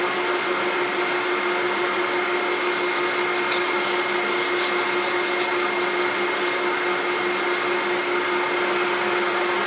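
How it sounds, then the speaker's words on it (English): A dust collector runs in a woodturning shop, giving a steady, loud broadband whoosh with a constant hum that holds unchanged from start to finish, with no talk. "Let me turn on the dust collector."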